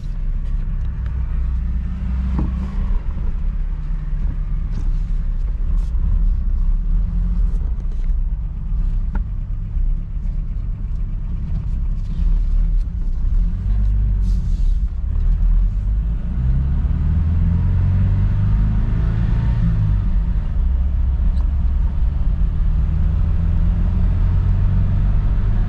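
An old Nissan 720 ST pickup, revived after long sitting, drives on flat-spotted tires, with a steady low engine rumble and rough rolling noise continuing throughout.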